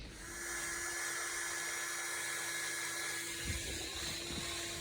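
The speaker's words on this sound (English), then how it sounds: "We're just going to speed up the process just by going over it with a drill and wire wheel" A power drill with a wire wheel removing rust from Mercedes 107 SL steering parts runs continuously, a steady high-pitched whir with a faint scratchy grinding texture underneath, fairly quiet and constant throughout.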